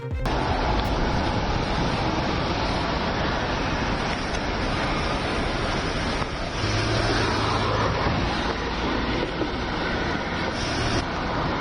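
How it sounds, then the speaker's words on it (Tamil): Rough sea surf pounds along Marine Drive in Mumbai during heavy rain. The roar of breaking waves is dense and continuous, with steady wind noise mixed in. "மும்பை மரைன் டிரைவ் பகுதியில் கடல் சீற்றத்துடன் காணப்பட்டது"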